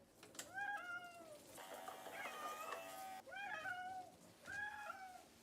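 A cat meows and whines repeatedly during a bath, with several drawn-out, wavering cries in close succession, fairly faint, and a brief noisy splash-like burst between them.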